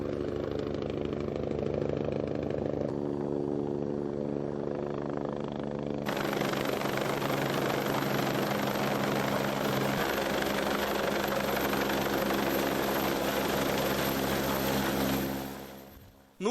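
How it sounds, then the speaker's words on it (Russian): An air ambulance helicopter in Bashkiria approaches, its rotor and engine drone loud and steady throughout, swelling into a broader roar partway through and cutting off abruptly at the end. "Уже через пару минут вдалеке послышался шум винтов."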